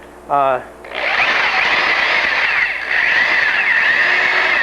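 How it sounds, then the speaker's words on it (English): A power drill whines steadily at high speed for several seconds, drilling a bicycle frame head lug laid flat, close and loud, after a brief burst of speech at the start. "probably not your average drilling procedure, an unorthodox drilling procedure"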